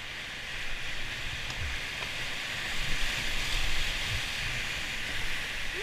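Steady wash of waves and choppy water around a kayak on Marsh Creek, a continuous broadband roar with slight swells in intensity, close and enveloping.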